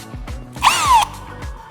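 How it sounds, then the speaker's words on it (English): Power drill running in a short whirring burst that rises and cuts off, set among rhythmic mechanical knocks, close and loud with no talking. "A drill gives you a constant rotational force."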